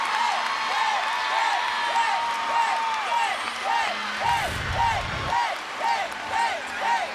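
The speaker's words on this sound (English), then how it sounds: "The crowd is yelling a 10" Arena crowd at a college gymnastics meet between North Carolina and Clemson roars and cheers steadily after a stuck dismount landing, with rhythmic whooping chants rising and falling across the whole stretch and a brief thump partway through.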